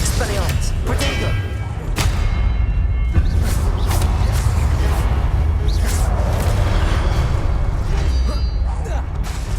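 Expelliarmus and Protego spells clash during a statue fight in Hogwarts Legacy, with repeated thuds, booms and mechanical clunks over a constant rumbling bed, and a voice talking throughout.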